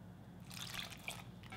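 A cup of water is poured into plain wheat flour in a bowl to make batter, giving a brief, quiet splash and trickle of liquid.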